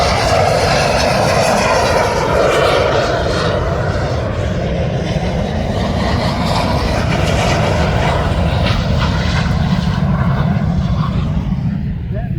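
A steady, loud drone of a B-17's piston engines and propellers runs unbroken throughout at EAA AirVenture Oshkosh 2025, close and powerful, with no pauses.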